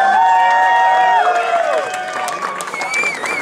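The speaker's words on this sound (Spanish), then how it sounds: "Aloh en velik aplauz" A concert crowd in a large hall claps and cheers in a steady, loud wash that continues from start to finish, with a sustained tone and voices over it.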